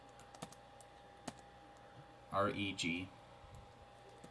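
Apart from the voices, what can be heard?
typing on computer keyboard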